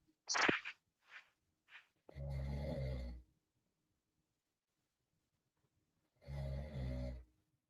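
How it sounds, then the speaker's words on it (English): Two drawn-out, rasping snores from a sleeping person, separated by a long silence, with a few short breathy sounds just before the first. "I could just hear somebody snoring."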